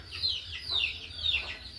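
Country hens offered for sale cluck in a few short, repeated bursts, moderately close and fairly soft, with a faint low hum underneath and no voices.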